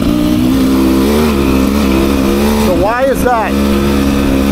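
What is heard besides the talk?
Beta 300 RR dirt bike engine on a hill climb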